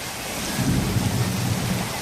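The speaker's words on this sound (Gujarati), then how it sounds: "ગાજે હો ભાઈ જોરદાર ગાજે" A low rolling rumble of thunder swells and fades over steady rain hiss in Gujarat, fairly close and without any voices.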